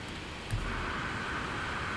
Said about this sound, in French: Forte pluie surchauffée